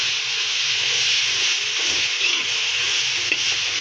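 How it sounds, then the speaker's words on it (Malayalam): Onions and green chillies sautéing with salt in a pan give off a steady, loud hiss of sizzling oil, with faint scrapes of stirring now and then. "നമുക്ക് ഉള്ളി ഇട്ട് കൊടുക്കാം, പച്ചമുളക് ഇട്ട് കൊടുക്കാം. ഇതൊന്ന് വഴറ്റിയെടുക്കാവോ"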